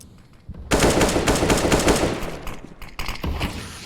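Pistol fire in a competitive Counter-Strike match, including a Desert Eagle spray, comes as a loud, dense burst of rapid shots lasting about two seconds, then a shorter second volley.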